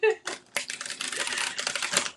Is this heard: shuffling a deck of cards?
yes